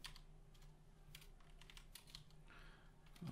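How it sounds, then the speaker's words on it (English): Quiet, close typing on a computer keyboard, a steady patter of individual key presses and a few quicker runs, with no talking. "Let's type in the whole thing then."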